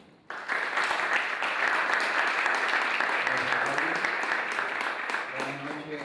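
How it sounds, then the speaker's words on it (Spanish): An audience at a legislative dialogue event on Congress and Dominican democracy bursts into sustained, even applause to welcome a senator to the podium, steady clapping that starts abruptly and carries on for several seconds. "Recibamos con un fuerte aplauso a nuestro exponente"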